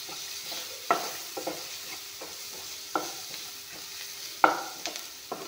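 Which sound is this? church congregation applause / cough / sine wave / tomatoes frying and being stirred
tomatoes frying and being stirred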